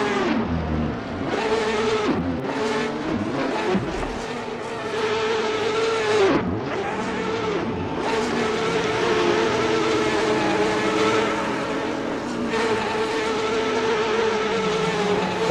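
Ferrari race cars in a Gran Turismo race at Interlagos, engines droning and shifting pitch continuously as the cars run close together, loud and steady throughout with no talk.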